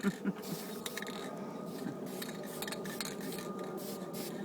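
Hand filing on metal while installing a U-joint on a 1990 GMC Safari cargo van, with irregular rasping strokes and mechanical clinks heard at a moderate distance.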